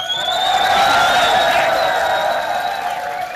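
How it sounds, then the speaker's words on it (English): Audience at the Mists of Pandaria European digital launch event in London applauds and cheers, a loud, continuous crowd roar with whoops that dominates the room and eases slightly at the end. "A round of applause for Scott Mercer."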